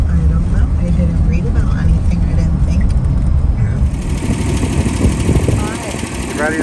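Lawn mower engine running at a large lawn during the season's second cut on a commercial mowing job, a steady close drone that grows louder and rougher about halfway through.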